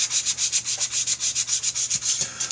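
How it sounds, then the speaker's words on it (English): Rhythmic back-and-forth rubbing of 1000 grit sandpaper over the edges of a BigDog motorcycle oil tank top cover, steady close strokes about five per second, alone without talk. "So now we're going to go over these edges with some 1000 grit."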